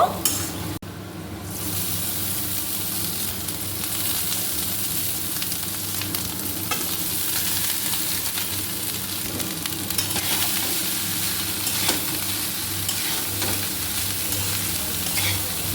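Steady loud sizzling and crackling of leftover rice stir-frying with fried onions in a hot pan, with occasional scraping of a spatula, continuous and close.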